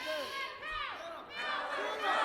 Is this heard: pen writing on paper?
no